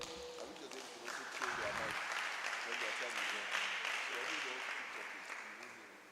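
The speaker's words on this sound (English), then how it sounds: "Please clap for them as they come forward." Applause from the audience at a debate tournament on polygamy, a dense, steady wash of clapping that swells after a moment and holds at a moderate level, with voices mixed in underneath.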